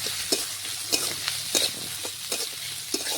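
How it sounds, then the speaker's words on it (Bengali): Chopped onions frying in hot oil with green chillies, stirred by hand: a continuous sizzle broken by regular scraping strokes of a spatula, close and alone with no talking. "এখন বেশ কিছুটা পেঁয়াজ কুচি আমি তেলের মধ্যে দিয়ে দিলাম। পেঁয়াজটা একটু লাল লাল নাড়াচাড়া করে ভেজে নেব।"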